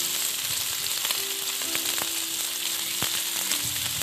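Onion frying with turmeric and salt in a pan for chicken keema, a steady loud sizzle with occasional crackles and stirring clinks, no talking.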